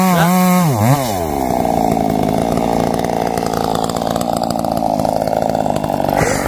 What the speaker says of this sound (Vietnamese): Cưa hạ cây da luôn.